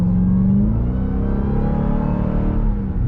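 Engine of a 2021 Dodge Durango SRT Hellcat revving hard, a loud, continuous deep roar with a rising supercharger whine layered on top, steady and close throughout with no talking.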